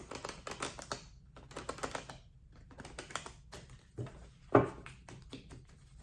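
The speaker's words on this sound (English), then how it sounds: "Let me shuffle a little bit because I'm just getting so many cards." Tarot cards shuffle and riffle with quick clicking flutters, close by, in several short bursts with brief pauses and one sharper tap near the end.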